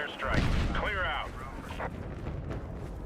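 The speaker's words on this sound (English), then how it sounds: "You are danger close to an airstrike." Airstrike explosions in the video game Battlefield 6: a heavy, booming blast that rumbles for about a second, followed by lower rumbling and debris over a game voice alert.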